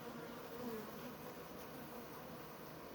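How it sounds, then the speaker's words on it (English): Honeybees fanning their wings around plants on a hot day make a steady, dense buzzing drone that stays close and even throughout, with no talking. "the bees are fanning"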